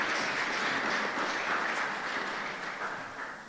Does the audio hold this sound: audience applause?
yes